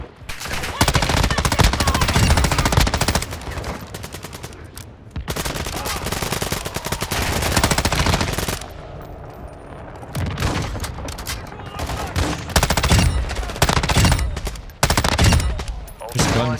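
Video game gunfire in DMZ, long rapid automatic bursts shredding AI bots, loud and close, with short pauses between volleys and brief talk between bursts.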